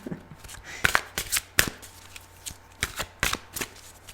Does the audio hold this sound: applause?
no